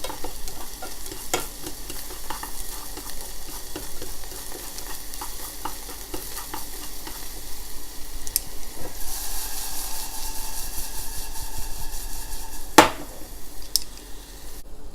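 White parts of green onion, ginger and garlic are stir-fried in a pan for egg drop soup, giving a steady soft sizzle with scraping stirs and occasional sharp clinks of the utensil, close by.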